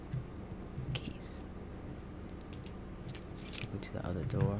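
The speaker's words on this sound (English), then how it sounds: "Keys." Keys jangle and click in short bursts within the World War I horror video game Under: Depths of Fear, set over a low, murky ambient drone, with soft breathy sounds in between.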